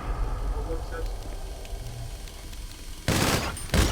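Gunfire in GTA 5 Online: a low rumbling blur of shooting, then a loud burst of dense fire near the end, with another sharp burst right after.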